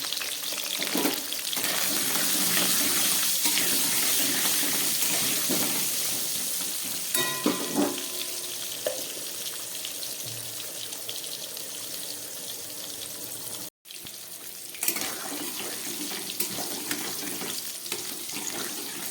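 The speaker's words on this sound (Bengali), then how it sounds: "আলুগুলো ভাজা হয়ে গেছে, আমি আলুগুলোকে এবারে তুলে নিচ্ছি।" Potato pieces with salt and turmeric frying in oil, a close, continuous hiss and sizzle with occasional stirring scrapes and clinks, briefly cut off for an instant before resuming.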